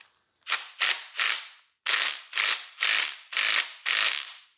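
A ratchet wrench clicks through short bursts on a 19 mm socket held with vice grips, working on a CL65 AMG: eight sharp, close ratcheting strokes in a steady rhythm, with a brief pause after the first three, and no talking.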